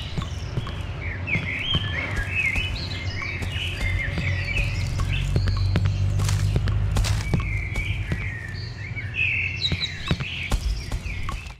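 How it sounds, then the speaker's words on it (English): Birds chirp and twitter in bright repeated calls over a low steady ambient hum in the horror video game Cry of Fear, with faint footstep-like taps scattered through. "You can hear the birds chirping."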